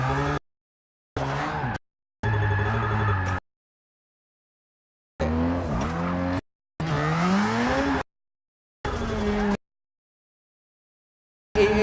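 A Ford GT drift car in Forza 6 racing game gives loud tire squeals and skids in choppy bursts with engine whine, broken by abrupt silent gaps.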